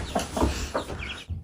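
A rooster and a timid hen in a countryside yard, the rooster with a badly injured leg, clucking in several short close bursts over about a second, then a brief pause and one last cluck.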